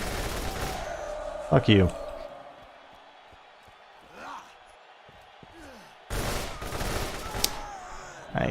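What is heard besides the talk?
gunfire in the video game Borderlands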